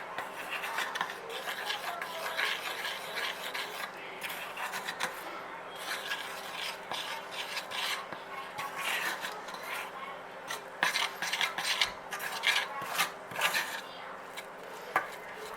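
Icing sugar being stirred into cooled caramel icing in a bowl, a steady scraping, rubbing rhythm of spoon against the bowl, close and moderately loud, with a few sharper knocks near the end and no talking.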